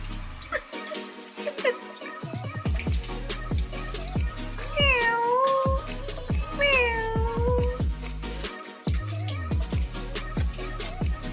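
A cat begging for fish gives two clear, drawn-out meows close by, amid light clattering and splashing household noise.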